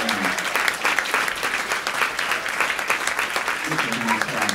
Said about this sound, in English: Keep them clapping till he gets here.